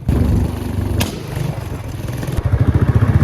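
Motorcycle ridden on a road, engine note loud and close with steady rumbling pulses, growing stronger and more rhythmic near the end.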